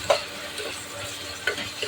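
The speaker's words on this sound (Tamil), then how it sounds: "தக்காளி நல்லா வதங்கி வரட்டும்." Tomatoes being sautéed in a pan for a chicken gravy with onion and garlic paste, a soft steady sizzle broken by a few brief scrapes of stirring.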